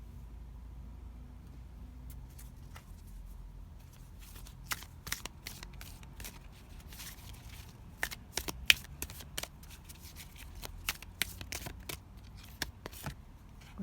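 Oracle cards for a tarot reading being shuffled, soft riffling with scattered sharp snaps over a low, faint background rumble, close and quiet.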